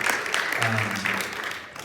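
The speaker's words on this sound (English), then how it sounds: "a round of applause for Carissa for sharing some of her perspectives" Workshop audience applauds after a speaker shares her perspectives, a crowd of hands clapping briefly while a voice briefly sounds beneath the patter.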